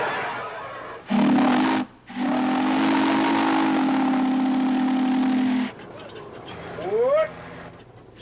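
A 1919 Nichols and Shepard steam engine runs with a loud, steady hiss and a low droning tone that cuts out briefly, then resumes for several seconds before stopping, followed by a short rising whistle-like squeal.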